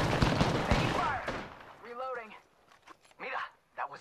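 Gunfire in the video game Apex Legends: a dense burst of shots at the start, then sparser sharp reports as a character voice speaks over the action.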